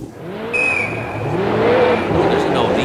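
An old Mitsubishi Evo rally car rushes past, its engine note rising and whining with a hint of tyre scrub, and voices talk underneath.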